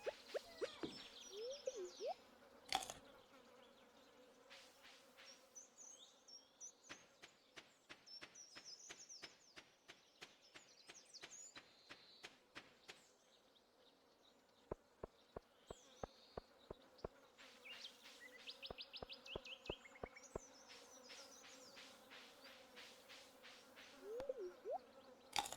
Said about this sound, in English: you can hear bugs buzzing around